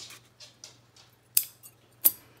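Scissors trimming a small paper scrap for a mini accordion folder craft, several quiet snips followed by two sharper, louder cuts, close up and alone.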